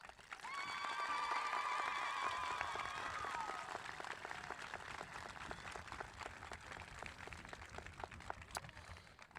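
An audience applauds graduates at a 2021 high school graduation ceremony with steady, sustained clapping from a crowd, while a faint melodic tone rises over it in the first few seconds.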